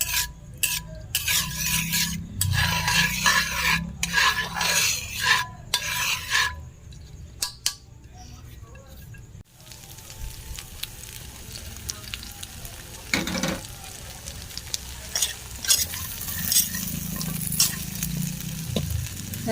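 Onions, garlic and dried fish sauté in oil for pakbet, with close stirring and scraping of a utensil against the pan over a soft sizzle, louder bursts early and again near the end.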